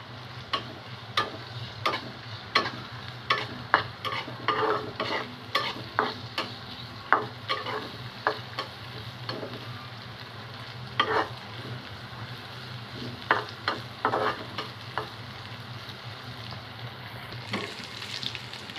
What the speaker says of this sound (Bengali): পেঁয়াজটা আমার লাল করে ভেজে নিয়েছি।